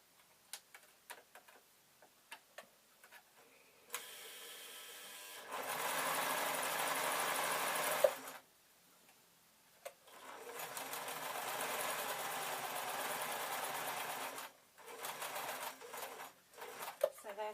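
A sewing machine stitches an Easter bonnet in two steady bursts of rapid mechanical whirring, with quiet clicks and handling noises between the runs.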